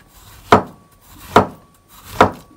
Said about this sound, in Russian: Нарезаю свеклу.